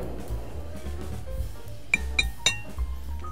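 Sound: pasta being mixed with pesto in a bowl

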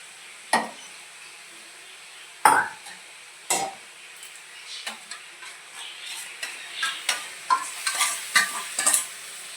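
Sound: spices being fried and stirred in a pan

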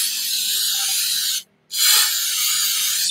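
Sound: spraying out Jaguar XK8 intake manifold

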